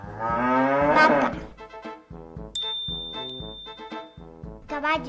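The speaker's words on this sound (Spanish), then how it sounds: "Vaca." A cow moos in a long, loud, drawn-out call near the start, with further animal calls and a short ringing tone following.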